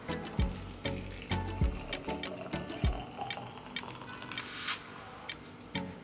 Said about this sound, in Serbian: Voda je proključala i preliću je preko čaja.